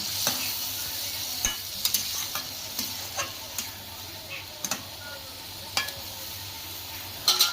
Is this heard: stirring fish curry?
yes